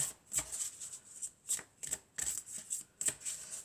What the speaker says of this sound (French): Et puis on va prendre une troisième carte.